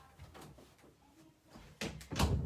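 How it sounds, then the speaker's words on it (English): A room door is pushed shut indoors, a soft thud and latch click after a quiet stretch, followed by a louder knock, close and moderately loud with no talking. "Just a second, I need to close my door."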